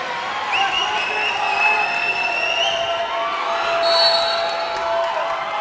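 Crowd cheering and whooping at a college volleyball match between Southern Virginia and Marymount, a sustained roar with whistles and shouts, rising and falling in waves across the gym.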